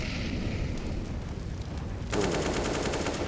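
Gunfire in the game CS:GO: a steady, dense rattle of shots throughout, growing brighter and louder in the final second as another burst of rapid fire joins in.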